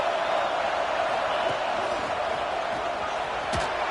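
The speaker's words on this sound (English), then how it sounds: "And here comes the noise. This crowd is trying to inspire this defense to make a big red zone stop." Loud stadium crowd roaring at a college football game between Auburn and Florida State, a dense sustained wash of noise with faint whoops and a short sharp bang near the end.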